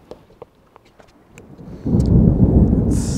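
Sparse scattered taps give way to a sudden loud burst of rumbling, rain-like wash that holds steady, with a brighter hiss rising at the very end.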